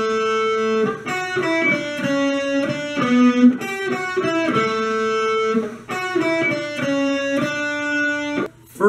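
Second part of a song's solo on electric guitar: a short run of sustained, slightly overdriven single notes in a rising and falling phrase, close and clear, ending abruptly, with no talking.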